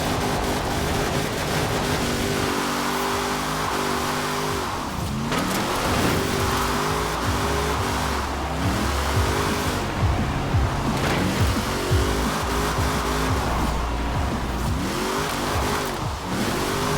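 A GMC Typhoon's engine drones and revs through long drifts in the racing game Forza Horizon 4, a dense, loud, continuous roar with rising and falling engine tones and tire noise, no speech.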